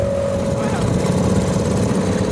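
An outboard motor boat cruising on the River Shannon, its engine a steady droning hum held close and loud throughout, with a constant tonal whine and rough low rumble and no break in the running.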